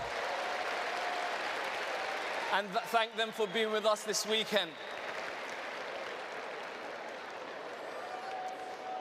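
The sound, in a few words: audience applause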